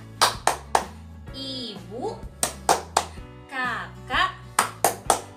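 Children clap out the Indonesian 'tepuk keluarga' family clap rhythm, crisp groups of three claps alternating with sung chanting voices, close and lively.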